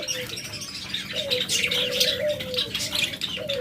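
Caged pet birds chirp and twitter continuously at close range, with a low repeated cooing call running beneath the busy tweeting.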